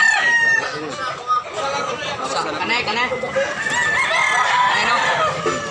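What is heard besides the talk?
roosters crowing and chickens clucking at market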